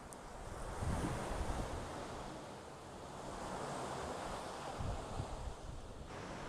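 Indian Ocean surf rolls against the coast at Cliff Head while steady wind buffets the microphone, a continuous broad roar with gentle swells in loudness and no voices.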